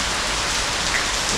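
Steady rain pours at a villa in Goa, India, a loud dense hiss of drops on surfaces with no pauses or voices.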